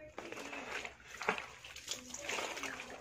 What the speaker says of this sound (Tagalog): magbanlaw ng t-shirt